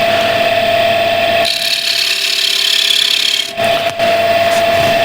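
A woodturning lathe spins steadily with a tonal hum while a freshly sharpened gouge cuts wood, giving bursts of loud, rough shearing and scraping that stop briefly and resume.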